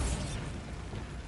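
Bombarda blasting spell detonating in Hogwarts Legacy, a brief dense explosive burst with a heavy low rumble, loud and close.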